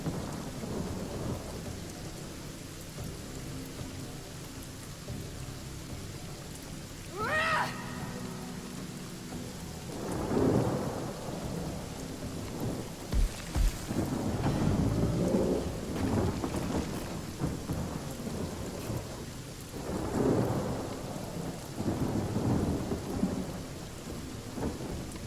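Persistent rain with several deep thunder rumbles swelling and fading over time, plus a brief rising whoosh partway through, from turn-based combat in the fantasy role-playing game Divinity: Original Sin.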